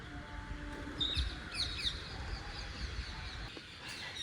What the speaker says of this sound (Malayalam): ഇതേ തത്തകൾ പാറിപ്പോകുന്നു